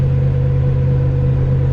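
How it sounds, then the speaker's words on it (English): 1000 RWHP drag car engine droning loudly while driving, a steady, heavy low-pitched hum with a constant tone, close and continuous with no talk. "this is what it sounds like to drive this car"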